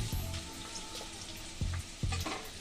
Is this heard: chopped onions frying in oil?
yes